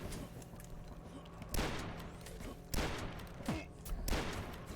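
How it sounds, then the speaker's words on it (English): Super shotgun blasts in a video game, three or four heavy booming shots spaced about a second apart, fairly faint and set against a steady background hum, with no talking. "Super shotguns make everything easier"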